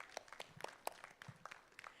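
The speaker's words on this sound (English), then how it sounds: "We should all clap for him." A few scattered, faint claps at a preventive and social medicine conference, irregular and sparse, quiet and somewhat distant, with no voices over them.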